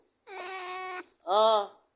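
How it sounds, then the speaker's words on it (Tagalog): A cat meows twice at close range, a drawn-out harmonic call followed by a shorter, rising-falling second meow, loud and clear against silence. "May kasama kong pusa."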